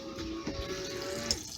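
Coolant water gushing steadily out of a hose during an Alde G13 heating system coolant change, a continuous close splashing flow for a moment with no talk.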